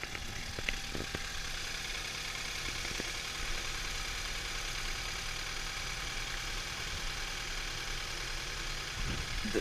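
A 2013 BMW 328i engine starts and settles into a steady, smooth idle, a continuous low hum with a brief rise near the beginning and no voices.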